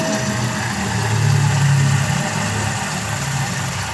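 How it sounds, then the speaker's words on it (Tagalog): Toyota Avanza engine idling steadily up close, a continuous low mechanical hum with a faint scraping texture and slight unevenness, heard alone with no talk. "Pakinggan yung mga boss parang meron siya kumakaskas dito sa loob ng makina."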